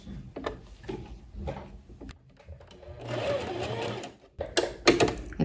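A sewing machine runs in short bursts and then one longer steady stretch, joining a vest's lining to the main fabric at the neckline, with nearby clicks and handling knocks between the runs.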